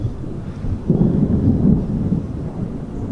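A low, rumbling roll of thunder swells and fades over a few seconds, heavy in the bass, with a faint wash of wind behind it.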